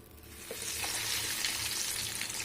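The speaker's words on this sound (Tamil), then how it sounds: "இப்போ இதை ஆயிலில் போட்டு டீப் ஃப்ரை பண்ணிக்கலாம்" Paneer sweet corn cutlets go into hot oil for deep frying, giving a steady, close, even sizzle that swells slightly after the first half second, with no talking.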